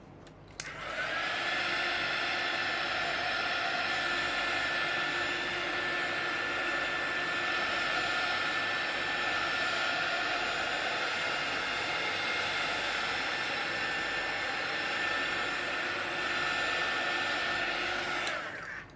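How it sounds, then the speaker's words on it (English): A handheld heat tool drying ink on an art journal page gives a steady, close whooshing blower roar with a faint whine. It runs unbroken for nearly the whole stretch, then cuts off at the end. "I'm going to use my heat tool just so I will be sure that the ink is dry, so it won't smear."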